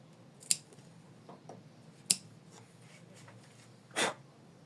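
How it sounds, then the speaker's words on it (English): Scissors trim felt for a heart ornament, giving three quiet, sharp snips spaced a second or more apart over a hushed room background. "Try not to cut the stitches when you're trimming."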